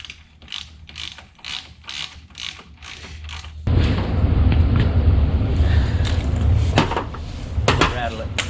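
A ratchet tightens a nut on the front axle of a Renegade XXC 1000 ATV, with quick repeated clicking strokes that give way to a louder, steady rasping run, heard close up.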